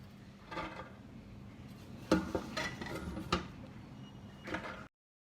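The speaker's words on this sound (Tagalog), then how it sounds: "una, maglagay kayo ng kushari with rice sa lagayan" Kushari with rice being served into a container, with faint clinks and scrapes of a utensil against the dish at a steady, quiet level and no talk.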